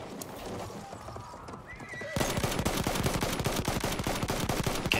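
Horse galloping in the video game Battlefield 1, rapid clip-clop hoofbeats in a steady driving rhythm, loud and close, mixed with a brief whinny and bursts of gunfire in a desert town battle.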